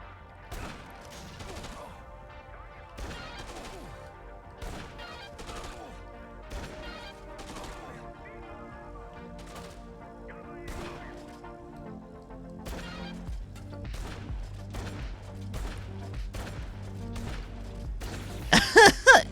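In the Dead Rising 2 video game, a vehicle is driven through zombies amid a string of sharp impacts and gunshot-like cracks, with game music underneath and a burst of louder hits near the end.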